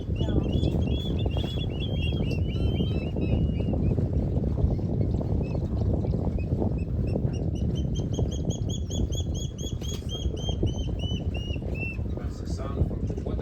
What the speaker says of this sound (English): That's the sound from the water cricket.